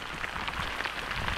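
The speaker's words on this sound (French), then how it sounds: "j'ai l'impression qu'il pleut un peu" Light rain falling outdoors, a steady soft patter of drops on surfaces, continuous and fairly quiet with no voices over it.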